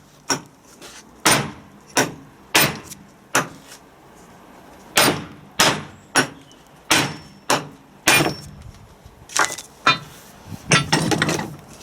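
A hammer drives a drift into a Land Rover Defender TD5 LT230 transfer box, landing about fifteen sharp metallic blows close up at an uneven pace, with a quick flurry of hits at the end.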